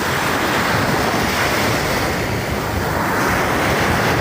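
Sea waves wash onto a beach in a steady, loud roar of surf, with gusting wind buffeting the microphone throughout.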